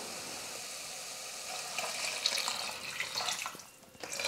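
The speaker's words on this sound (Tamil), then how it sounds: "அப்புறமா தண்ணி சேர்த்துக்க போறேன்" Water is poured into a pot of cabbage sambar, a faint, steady splashing trickle that grows a little fuller midway and then tapers off.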